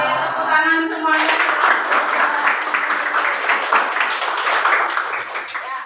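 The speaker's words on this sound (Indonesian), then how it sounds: "Oke, tepuk tangan semuanya." A classroom of students claps together after a voice briefly speaks, producing a steady burst of many hands clapping that continues evenly for several seconds, fairly close by.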